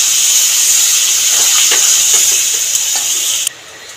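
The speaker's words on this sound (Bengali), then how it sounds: "এবার পরিমাণ মতন জল দিয়ে দেবো।" Water poured into a hot pan of sautéed taro root and prawns bursts into a loud, dense hissing sizzle with bubbling, then drops sharply quieter near the end; no voices.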